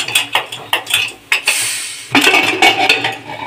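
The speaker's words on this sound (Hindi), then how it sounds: "कलछी से मिला लेते हैं इस तरीके से, तो अच्छे से सांभर को मिला लिए हैं।" A metal ladle stirs sambar in a metal pot, scraping and clinking in quick repeated strokes, loud and close, then a smoother continuous swirl before more rattling scrapes.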